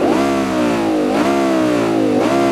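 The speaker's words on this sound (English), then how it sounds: "That is such a recognizable V10 sound." A swapped 5-litre V10 from a BMW M5 E60 fitted to a BMW 3 Series E30 in the BeamNG video game, revving loud and close in repeated rising sweeps that drop back, with a sequential gearbox.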